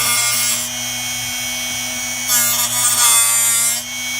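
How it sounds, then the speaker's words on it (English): A drill bit sharpener runs steadily with its chuck being rotated, a constant electric motor whine and buzz that grows louder and grittier briefly midway as the bit is ground. "Once you place the drill bit in the chuck, it's just a matter of turning this thing on."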